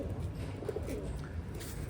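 Pigeons coo low and continuously close by in a short stretch, a murmuring layer with no talk over it.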